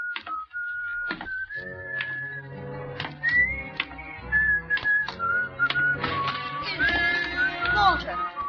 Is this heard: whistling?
yes